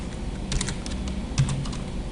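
Computer keyboard keys are typed in a quick irregular burst of light clicks, close and clear, with a brief pause partway through.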